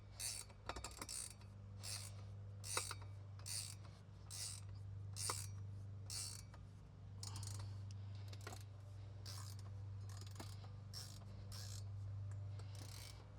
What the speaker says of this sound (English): So now we can go ahead, tighten all these up, and compress the EV foam even more.